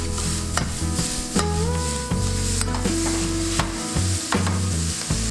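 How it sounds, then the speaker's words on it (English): Green beans stir-fry in a wok with brown vinegar for a Sichuan dry-fried dish, giving loud close sizzling broken by repeated scraping stirs of a spatula, with some tonal ringing from the wok. "Finally, add brown vinegar from the edge of the wok and stir for about 30 seconds."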